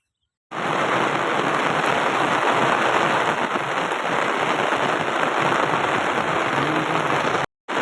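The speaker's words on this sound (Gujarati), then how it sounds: "ફાઇનલી કાંઈ વરસાદ ફૂલ ચાલુ થઈ ગયો જોઈ લો" Heavy rain pours down on a village in Gujarat in a dense, steady hiss, drumming on surfaces without letup, loud and close. It cuts out abruptly near the end.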